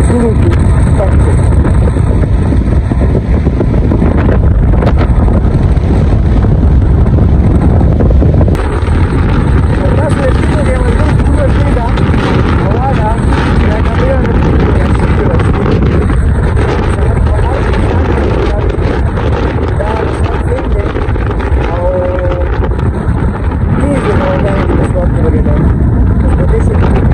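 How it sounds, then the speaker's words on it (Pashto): Strong storm wind blowing dust across Swat, a loud, continuous roaring buffet against the microphone that lasts throughout, with someone speaking underneath. "انتهایي تیزه سیلۍ ده، بلکې طوفاني سیلۍ"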